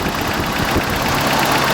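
A 1989 Toyota 4Runner's fuel-injected 22RE four-cylinder idles steadily up close, a loud, even mechanical rumble with a faint knocking texture.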